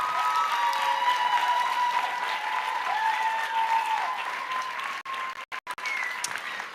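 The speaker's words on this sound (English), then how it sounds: "Let's give them another round of applause." An audience at a World Festival Week music program in Cabella, Italy, gives a loud, full round of applause that carries steadily, then breaks off in short gaps near the end, with a tonal hum running beneath.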